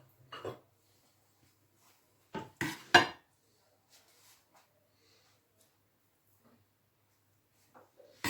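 Millet soup with raisins being served into a dish, with a few close clinks and scrapes of cutlery and crockery in short bursts separated by quiet stretches.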